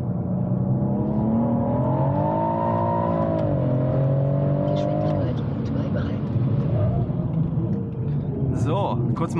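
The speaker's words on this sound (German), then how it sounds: "So, kurz mal rausgeschleunigt aus der Kurve." A BMW M140i accelerates hard out of a corner, its engine note rising in pitch and holding steady as it pulls through the gears, loud and close, with road and wind rumble throughout.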